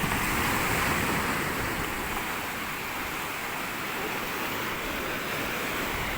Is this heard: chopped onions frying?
no